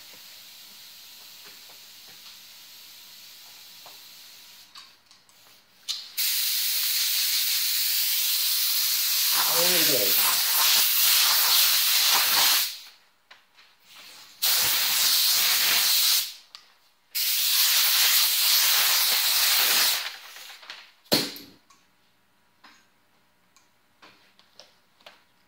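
Urethane sealer hisses out of an Iwata minigun spray gun with a 1.0 tip during a paint job, in several steady bursts of a few seconds each separated by short pauses, fairly loud and close.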